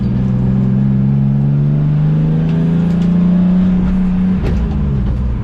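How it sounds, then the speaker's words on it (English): A BMW E36 engine revs hard against its rev limiter, a loud, sustained high-rpm drone with a slight wavering bounce that holds for about four seconds before cutting off abruptly. "We were bouncing this thing on the rev limiter"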